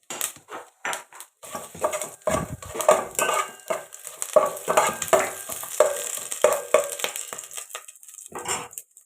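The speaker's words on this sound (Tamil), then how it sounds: "எண்ணெய் காயிட்டு தாளிப்புக்கு பட்டை லவங்கம் சோம்பு ஏலக்காய் இதெல்லாம் போட்டிருக்கேன் செவக்கட்டும்" Whole cinnamon, cloves, fennel and cardamom frying in hot oil for a tempering, with a soft sizzle under repeated metal stirring and scraping clinks against the pan, close and fairly loud.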